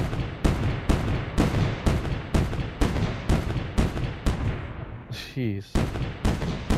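Heavy artillery shots boom out in steady repeated blasts during M.A.C.E. Tower Defense gameplay, each a sharp loud report. There is a short mechanical game effect near the end and a brief spoken exclamation.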